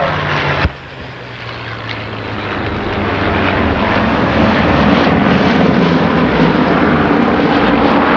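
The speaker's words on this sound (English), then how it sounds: "Watch the B-17 now." A B-17 bomber flies past at a 1993 aviation heritage air show, its piston engines building from a softer drone into a loud, sustained roar that swells and holds steady to the end, with no talk over it.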